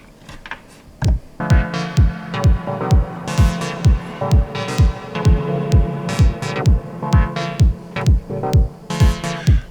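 A steady Eurorack synthesizer kick drum thumps in an even, repeating rhythm with a punchy, percussive attack, played alone with no sidechain pumping effect.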